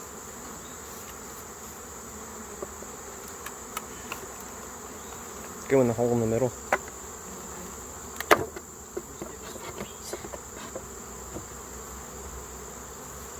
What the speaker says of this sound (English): The whole bottom of the thing there was covered in bees.